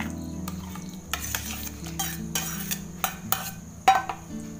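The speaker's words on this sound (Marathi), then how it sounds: "चांगलीशी मिक्स करून घेते." Stirring a custard apple basundi mixed with raisins and almonds in a pot, a steady scraping swirl with a few sharper clinks of the spoon against the metal, close and fairly quiet, with no one talking.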